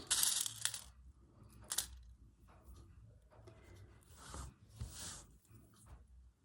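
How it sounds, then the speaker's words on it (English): Small metal pins rattle and clink inside a little tin during sewing work on a vintage folding tote caddy, several short bright bursts of jingling, close up and fairly quiet, with no talking. "I've got some more pins in my little cow and farmer tin"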